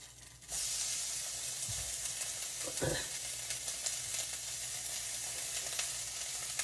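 Hamburger steak patties dropped into an overly hot skillet, a sudden loud sizzle that keeps up a strong, steady hiss with a brief thump partway through, no talk.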